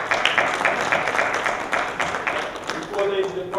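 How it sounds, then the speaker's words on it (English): An audience claps for college students on stage at an Essex County College event, a fairly close, steady patter of applause that thins near the end as a voice starts talking. "Let's give them a round of applause."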